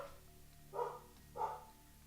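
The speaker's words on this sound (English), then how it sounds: "Why do they insist on barking?" A dog barks twice in quick succession indoors, two short faint yaps over a steady low background hum.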